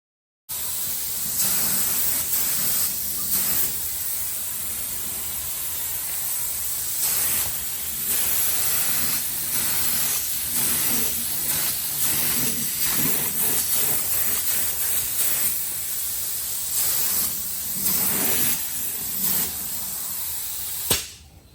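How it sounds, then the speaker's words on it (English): Steady, loud hissing spray of clear coat from a spray gun on a crash-repaired Holden VE Commodore runs almost continuously for about twenty seconds, with brief dips as the gun pauses between passes, then cuts off. "when you spray the inner coat clear, you want to go past where your silver's going to go"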